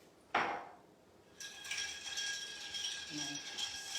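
An Old Fashioned cocktail is stirred, with a sharp glassy clink followed by a soft continuous clinking and rattling of ice against the glass, close and fairly quiet.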